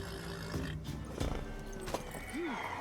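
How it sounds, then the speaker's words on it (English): A mare in the video game The Witcher 3 snorts and gives a short whinny over a low ambient game soundscape with occasional thuds. "Worthy of the best horse. The mare is yours."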